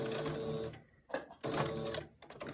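A sewing machine runs a double stitch across a fabric face mask in two short bursts of rapid mechanical whirring, close by, separated by a quiet pause and a small clack.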